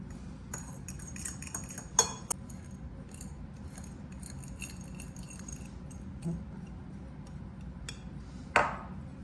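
Ingredients for ribs being mixed in a large, very full bowl, with scattered clinks and metallic taps of utensils, a couple of sharper knocks and a ringing ping near the end, close up with no talking.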